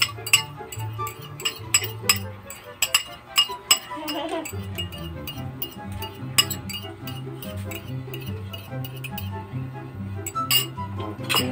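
Egg being stirred into corn soup, a series of sharp metallic clinks of a utensil against the pot, irregular and close, over soft background music.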